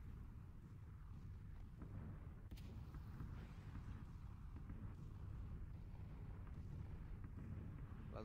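Deep rumbling booms of bombs in the video game PlayerUnknown's Battlegrounds roll through, with one sharp blast partway through, heavy low-end explosions with no talking.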